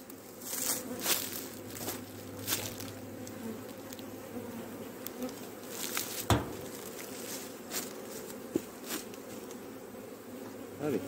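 Honeybees buzz steadily around a hive frame of stores, a continuous close hum with sharp ticks and bumps of handling, and no talk.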